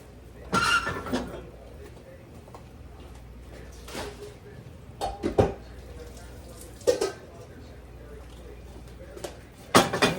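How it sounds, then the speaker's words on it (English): Cooked macaroni noodles dumped into a strainer to drain in a home kitchen, scattered clanks of pots and utensils with splashing bursts, spaced irregularly over a quiet background. "I'm going to go over here real quick and dump my noodles out."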